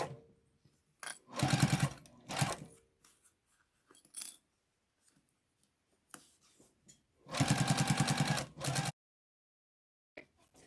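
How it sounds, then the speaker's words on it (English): Short close bursts of a sewing machine closing a quilted zipper case, with a brief run, a pause, then a longer steady run and a few back-stitch spurts amid quiet handling noises. "So now I'm just going to sew that closed, as close to the edge as you can."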